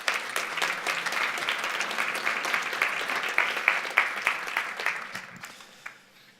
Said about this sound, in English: Can we just quickly give these folks a quick round of applause?